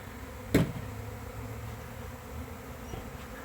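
A swarm of honey bees buzzes steadily around the hives in a continuous low drone, with one brief louder knock near the start.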